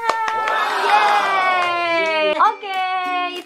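Children cheer and shout together in a brief burst of high, sustained voices with a few hand claps, celebrating a correct answer in an Indonesian Independence Day quiz competition held in Japan.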